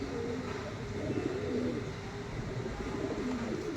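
Pigeons at a bird sale coo in a low, steady, overlapping murmur throughout, several birds close by with a continuous soft rolling hum.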